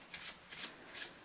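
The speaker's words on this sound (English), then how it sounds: "So they shuffle this packet." A small packet of playing cards being shuffled by hand during a magic trick, several soft riffling bursts in a steady rhythm, close and fairly quiet, no talking.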